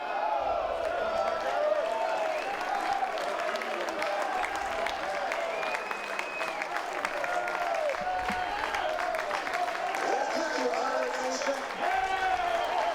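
A home crowd at an East Carolina Pirates baseball game cheers and claps steadily, with whoops and shouts rising from the stands at a moderate distance, while voices talk over the noise.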